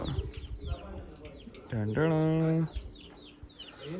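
A rooster crows once in a village, a loud, rising and then held call of about a second, near, with murmuring voices and rustling around it.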